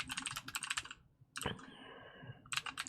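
Close, crisp clatter of computer keyboard keys typing out shortcuts in bursts, with a pause before more quick keystrokes resume; no talking.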